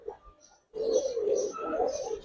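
Low, rolling coos from Giribaz pigeons follow a brief quiet gap and then continue steadily for over a second, fairly close, with a faint higher chirp-like layer above and no clear speech.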